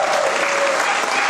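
Congregation applauding during a church service, a dense, steady wash of clapping from many hands filling the room without a break.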